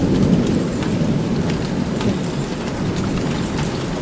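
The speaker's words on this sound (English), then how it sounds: "Oh, it's really raining." Steady heavy rain pours with a deep rolling rumble of thunder underneath in a video game, a constant dense wash of sound with no talking.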